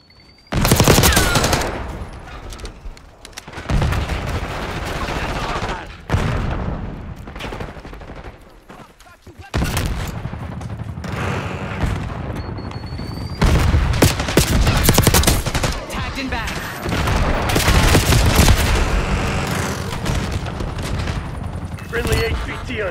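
Rapid submachine-gun fire from the Jackal PDW in the Black Ops 6 video game, dense bursts with booming impacts running almost continuously under game voice callouts.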